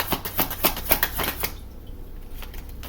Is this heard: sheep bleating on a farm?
no